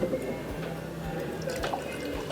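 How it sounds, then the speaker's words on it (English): Scrumpy cider is poured into a small taster glass, giving a close trickling, dripping splash with a few distinct drops, while faint background murmur carries underneath. "we'll just pour it into a little taster here, and then we can put the sparkling ones into the flute"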